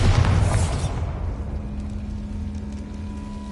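A Bombarda explosion spell in Hogwarts Legacy goes off as a loud, deep boom that decays into a long rumbling tail over a steady low hum, with no voices.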